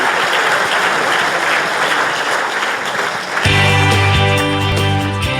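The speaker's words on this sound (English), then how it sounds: "Let's give a round of applause to these folks." Audience applause at the Mackinac Policy Conference, a dense wash of clapping across a large hall that runs on loudly before music with steady tones cuts in partway through.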